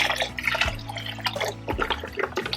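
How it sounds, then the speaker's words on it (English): Boxed organic chicken broth poured into a soup pot, a splashing, gurgling stream of liquid with drips, faint and close, lasting a couple of seconds with no talk. "I know we like extra, so I am just dumping a bunch in"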